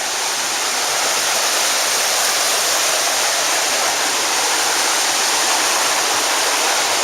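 Steady rushing water from a creek flowing beneath a tall footbridge on the Kephart Prong Trail in the Great Smoky Mountains, a constant broadband hiss with no pauses, fairly loud and unbroken throughout.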